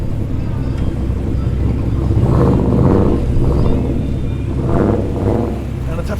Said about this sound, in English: XR6 with a nice whine to it